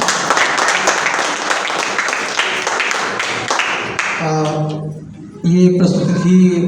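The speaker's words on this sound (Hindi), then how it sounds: "मैं चाहूँगा एक जोरदार तालियां इन कलाकारों के लिए।" An audience claps loudly for the performers of a stage play by a disability sports and welfare academy in Patna. The dense clapping lasts about four seconds, then fades and gives way to tonal sounds and voices.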